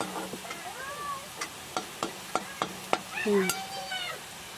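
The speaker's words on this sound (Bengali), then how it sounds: "এখন আমি পেঁয়াজটাকে আমি ভালো করে ভেজে নিচ্ছি" Onions fry quietly in a pan with a soft, steady sizzle. A spatula scrapes and taps the pan in a series of sharp clicks, and a brief tonal, voice-like cry sounds near the end.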